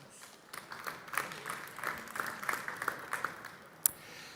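Scattered, modest applause from the audience at a software startup pitch event, with uneven claps rising and falling over a few seconds and one sharp clap near the end.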